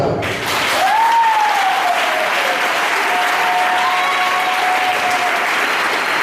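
A church congregation applauds and acclaims the Lord Jesus, with loud sustained clapping and cheering filling the whole stretch, while a high voice rises in a long acclamation above the crowd.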